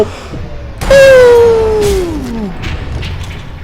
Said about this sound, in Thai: ระเบิดมาแล้ว